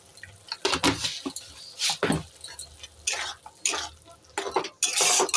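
Spice paste is stirred and fried in oil in a pan for fish head curry: a metal spatula scrapes and knocks against the pan in repeated close strokes over a soft sizzle.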